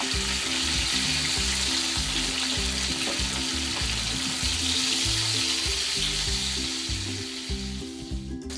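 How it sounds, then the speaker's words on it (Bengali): Eggplant slices frying in a pan, cooked for chingri bhuna, give off a steady, close, loud sizzle that runs without a break, with no voices over it. "বেগুনগুলো আমার ভাজা হয়ে গেছে"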